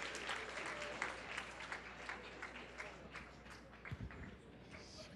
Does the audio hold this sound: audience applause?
yes